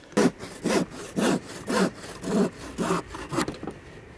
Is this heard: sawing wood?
yes